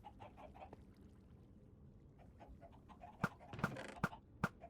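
Chickens in Minecraft give several short, clipped clucks near the end, spaced out over quiet background music with no one talking.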